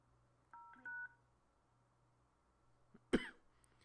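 Phone keypad DTMF tones enter digits on a Cisco UCCX call-center prompt: two short, faint beeps, then quiet, and a cough near the end.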